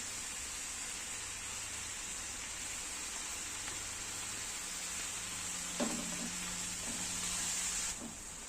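Steady, hissing sizzle of fish frying in hot oil in a pan, continuous and close, with a few faint clinks and a low hum underneath.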